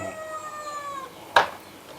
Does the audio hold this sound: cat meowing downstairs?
yes